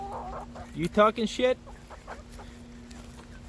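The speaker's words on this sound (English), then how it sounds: "Our next story is a chicken talking shit." Homestead chicken in a yard clucking in a quick burst of short, bright calls, with a voice speaking near the start over a faint steady hum.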